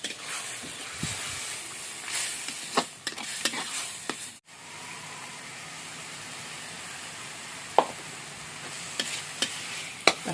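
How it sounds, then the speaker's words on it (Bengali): Cabbage mash with cumin and chilli powder being stir-fried in a pan: a steady soft sizzle with scattered sharp scrapes and clinks of the spatula, close and clear, with no talking. "এবার এটাকে কষাতে হবে।"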